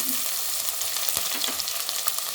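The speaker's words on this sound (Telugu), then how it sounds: "మన ఉల్లిగడ్డ కొంచెం బ్రౌన్ కలర్ వచ్చేంత వరకు ఫ్రై చేసుకోవాలి ఆయిల్లో" Chopped onions and green chillies frying in hot oil for a chicken curry, a dense, continuous sizzle close up with faint stirring, no voices.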